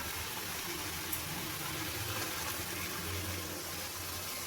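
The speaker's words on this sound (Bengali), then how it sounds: "এবার আমি মিক্সিং জার ধোয়া জলটা দিয়ে দেবো।" Rinse water from a mixer jar poured into a pan of kudri curry, a steady broad rushing gush of liquid lasting throughout, alone with no talk.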